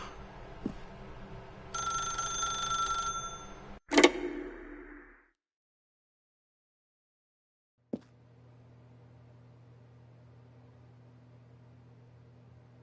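A telephone in The Stanley Parable game rings with a bright electronic tone for about a second, followed by a sharp click and near silence, then a low hum.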